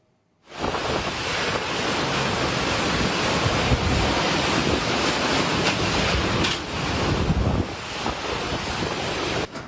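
A strong whirlwind storm roars across the Situ Rawa Gede recreation area in Bekasi, West Java, as loud, continuous rushing wind noise that starts abruptly and holds steady throughout, buffeting the microphone with no voices.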